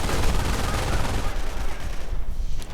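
Machine gun fire from an MG bunker in a strategy video game rattles out in dense, continuous bursts, loud and rough, with brief low speech blending in.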